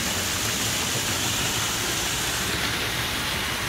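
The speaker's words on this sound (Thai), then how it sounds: "มีม่านน้ำตก3แพรค่ะมีไฟรอบมีไฟเส้นรอบม่านน้ำด้วยนะคะ" Water curtain cascading from three spouts into a home saltwater skimmer swimming pool, a dense, constant rushing splash heard close and unbroken throughout.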